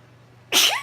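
A single sudden sneeze bursts out loud and close after near silence, a sharp explosive onset trailing off in under half a second.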